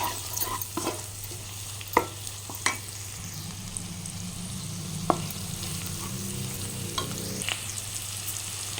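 Onions sizzle and fry in oil in a pan, with a steady crackling hiss and occasional sharp clicks of a spoon stirring through them.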